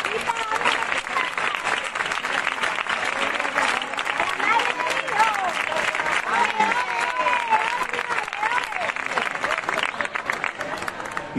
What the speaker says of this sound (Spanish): me gustaría que le diéramos un gran aplauso